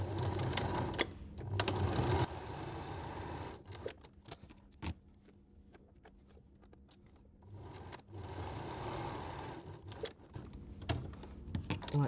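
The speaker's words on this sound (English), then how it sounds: "if you set your sewing machine" A sewing machine stitches fabric for small oven mitts, sewing along both sides of a marked line. Two bursts of steady, whirring stitching are separated by a quieter pause in the middle.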